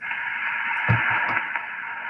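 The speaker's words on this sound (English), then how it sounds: "Let me see what happens if I put the computer near the radio." Radio receiver audio playing near a computer, a steady band of static-laden hiss and tone with faint bumps, close and unchanging.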